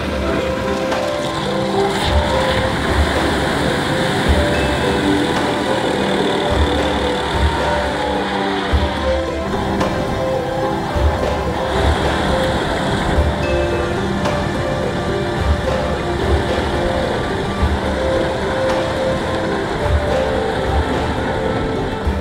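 A Fiat 126p Maluch pushes slowly through a shallow river in Mongolia. The engine drones loud and close the whole way, with water sloshing and churning against the car and no talk.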